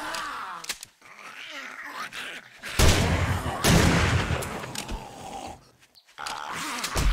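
Shotgun blasts against zombies in 7 Days to Die, loud rough bursts mixed with groaning and moaning creature sounds, separated by brief quieter gaps.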